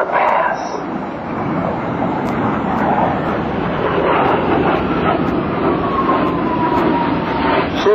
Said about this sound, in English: bringing the throttles back to idle with a negative G pushover so that the aircraft maintains level flight